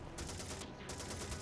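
Browning machine guns mounted on an Allied amphibious vehicle firing in the World War II shooter Call of Duty 2, a dense, continuous burst of rapid gunfire with no talk.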